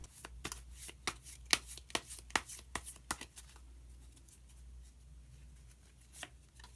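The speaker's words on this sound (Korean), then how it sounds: "마지막으로 마법사 카드를 한 장 더 뽑아보도록 하겠습니다" Tarot cards are shuffled by hand close up, a run of quick crisp riffling snaps and slaps that thins out into quiet handling, with no talk.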